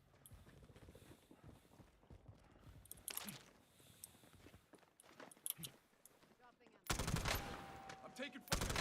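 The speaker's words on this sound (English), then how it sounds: "I'm taking fire here." Gunfire in Call of Duty: Warzone, with scattered game shots and footsteps, then a loud, dense burst of automatic fire near the end.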